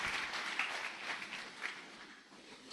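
A church congregation applauds in a steady wash of clapping that holds for a few seconds, then eases slightly, fairly distant and moderately loud.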